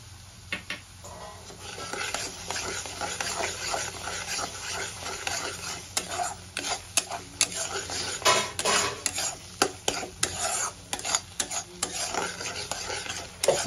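A spice paste with red chili powder is sautéed and stirred in a pan for a fish curry, a close, busy sizzle punctuated by rapid metal spatula scrapes and taps, with no speech.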